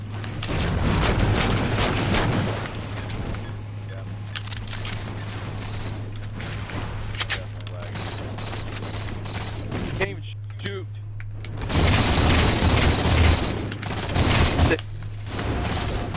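Frag grenade blasts and gunfire in the shooter game Halo 4, dense bursts of loud booms and shots cluttering a busy match, with a steady hum beneath and a brief lull before another loud flurry.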